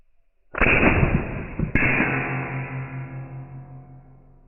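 An inline muzzleloader fitted with a .22 blank breech plug and loaded with no powder fires a single sharp report outdoors, with a second crack close after and a long ringing decay.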